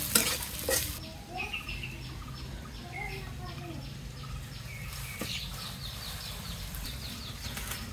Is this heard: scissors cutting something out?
no